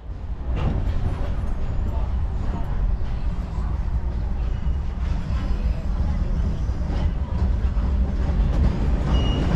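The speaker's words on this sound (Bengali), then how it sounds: "আমাদের ট্রেনটি চলেছে দুর্বার গতিতে" A passenger train runs fast at night between Howrah and Gwalior, a loud, steady rumbling roar with faint rhythmic rattling of the carriages throughout, heard from inside.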